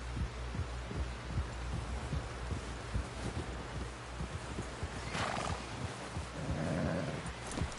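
A horse in Red Dead Redemption II plods with a steady clip-clop of hooves and gives a brief whinny near the end, all over a low, constant ambient bed at moderate volume.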